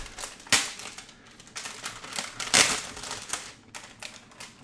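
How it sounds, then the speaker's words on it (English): Plastic wrap crinkled and peeled off a graphics card box during an RTX 2080 Ti unboxing, with close, sharp crackling bursts and rustling over nearly five seconds, no talking. "enjoy those sweet sounds of crinkling plastic"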